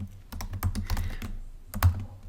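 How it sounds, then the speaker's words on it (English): Fast typing on a computer keyboard, close and clear, in short uneven bursts of clicky keystrokes with a brief pause between them. "if I can type it correctly"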